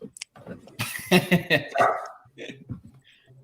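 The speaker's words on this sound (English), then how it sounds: "Sounds like my dog going crazy." A dog barks in a rapid burst of loud yips, followed by quieter scattered barks, mixed with people talking over it.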